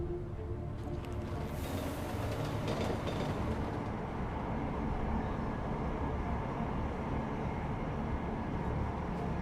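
A train arrives at a station in the video game Deus Ex: Mankind Divided, making a loud, continuous rumbling roar with a brief rising screech early on and no talk.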